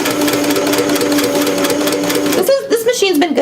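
A sewing machine runs steadily at a close distance with a continuous whirring drone, then stops partway through as people begin talking.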